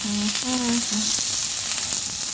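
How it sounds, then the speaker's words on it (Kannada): Onions frying in a pan for a tomato dish, a steady close sizzle running throughout with a few short tonal sounds near the start. "ನಾನು ಈರುಳ್ಳಿ ಪಾಡ್ಗ"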